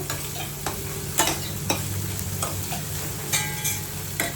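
Cooked rajma (kidney beans) being mashed and stirred in a pan, with periodic scraping strokes and soft squelching over a steady low hum, close and moderately loud, no talking.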